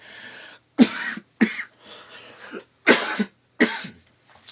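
A person coughs several times in close, harsh bursts, with short gaps and some throat clearing between them.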